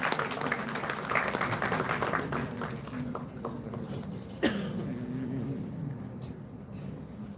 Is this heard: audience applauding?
yes